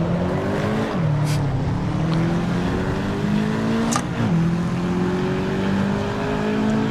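A racing car engine in the Assetto Corsa Evo video game revs loudly and continuously, its pitch climbing and dropping sharply with gear shifts, with no one speaking.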